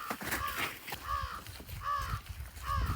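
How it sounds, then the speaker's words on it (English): Crows caw outdoors in a snowy wood, giving four or five harsh, hoarse calls spaced about every second, moderately close, over faint rustling and wind. "Crows, they'll collect shiny objects and bits and pieces, and they're also really smart."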